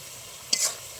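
Spices sautéed in oil with yogurt and Kashmiri chili powder for egg biryani give a single brief stir, a quick close sizzle that flares and fades within a second.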